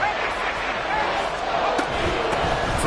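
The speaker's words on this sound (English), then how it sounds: "A big play here as the crowd noise rises." Stadium crowd at an NFL football game between the Lions and Eagles roars loudly and steadily after a big play, a dense continuous wash of voices with a few faint sharp knocks.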